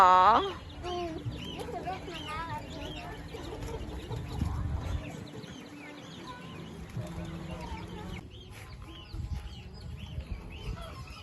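Chickens cluck and squawk at a children's petting farm, in scattered bursts mixed with other farm birds, while people chatter nearby throughout.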